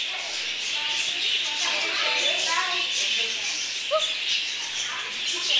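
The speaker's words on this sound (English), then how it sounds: "Look at all the birds, guys." Birds in a zoo aviary chirp and trill in scattered bursts beneath a constant bright hiss of background noise.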